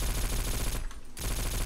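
Rapid automatic gunfire from the online shooter game War Trigger 2, a loud continuous burst that breaks off briefly in the middle and then resumes.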